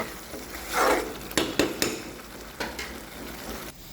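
Potatoes and green peas being stirred in a frying pan for a home-style aloo dum curry, with soft scraping and a few sharper clinks of a utensil against the pan over a steady low sizzle.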